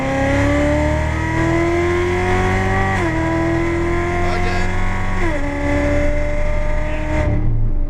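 A Chevrolet Corvette C7 Z06 on a race track, its engine heard from inside as a loud, sustained roar that climbs in pitch, drops sharply at two gear shifts, then fades as the throttle lifts; a voice speaks briefly over it.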